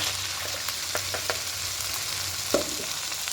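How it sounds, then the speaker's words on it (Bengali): Ginger-garlic and spice paste fries in hot oil in a pan for doi katla fish, giving a steady close sizzle with light stirring scrapes and a sharper clink partway through. "এবার যে মশলা পেস্টটা করেছিলাম ওটাকে দিয়ে দেবো"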